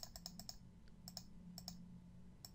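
Crisp computer mouse clicks in quick bursts, several rapid taps in groups with short gaps, close and fairly quiet, while someone edits a sprite in Scratch 2.0.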